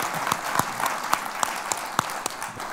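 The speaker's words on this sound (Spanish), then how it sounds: "que recibamos con un aplauso a Gonzalo Suárez" Applause from a seated audience welcoming guest Gonzalo Suárez at a foundation conversation event, a steady wash of many hands with sharper individual claps standing out, moderately close and without talk.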